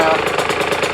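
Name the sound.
dirt bike engine starting and idling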